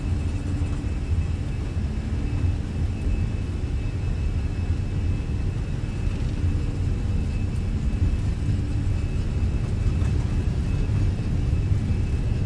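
A Fenix Airbus A320 rolling down the runway for takeoff in Microsoft Flight Simulator, with a steady loud jet engine roar and low rumble throughout and a faint high whine above.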